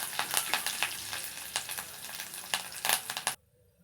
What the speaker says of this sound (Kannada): ಈಗ ನಾನಿಲ್ಲಿ ಕರಿಬೇವನ್ನು ಹಾಕ್ತಾ ಇದ್ದೀನಿ. ಮತ್ತೆ ಫ್ರೈ ಮಾಡ್ಕೊಳ್ಳೋಣ.